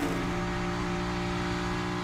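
A race car engine at Pocono accelerates with a steady, loud, close roar, its pitch holding high throughout, with no voices over it.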